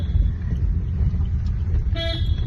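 A low engine rumble idles steadily, then a short car horn toot sounds near the end.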